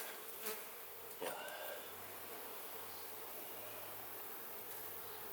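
Honeybees buzz around an opened beehive during a hive inspection, a faint steady hum close by, with a couple of brief rustling knocks near the start.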